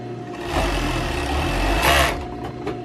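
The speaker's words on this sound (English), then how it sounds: "Let's sew around the edges." Sewing machine stitching around the edges of a small patchwork doll pillow made from fabric scraps, a steady close mechanical whirr running throughout with a brief faster burst near the end.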